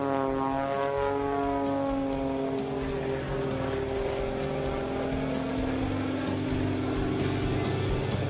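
Aerobatic propeller airplane flying a Cobra maneuver at an air show, its engine a loud continuous drone with steadily shifting pitch, close and filling the whole stretch without talk.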